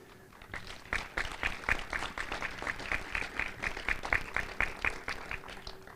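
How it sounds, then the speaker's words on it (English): Audience applause at a university residence hall ribbon-cutting and dedication ceremony, a fairly close, brisk patter of many hands clapping that builds after the first half-second and continues steadily throughout. "We may want to save the applause to the end."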